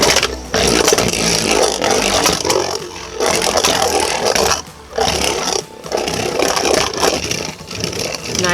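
A Beyblade Burst Surge top, Colossal Helios, spins and scrapes around a plastic stadium, a loud continuous gritty whir with brief dips as it grinds against the walls.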